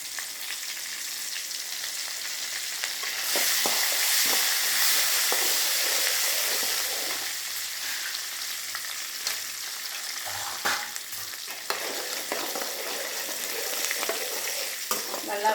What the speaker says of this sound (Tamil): மிளகாய் நல்லா கருப்பாக வறுபடுறப்ப தான் நல்லா வாசனையாக இருக்கும்